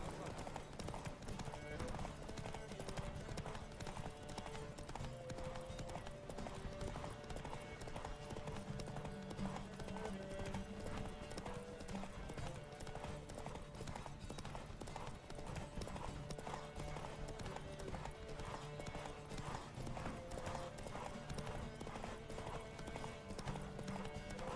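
Horses gallop in a race in The Witcher 3, a fast steady clip-clop of hooves running throughout, mixed under music and game sound.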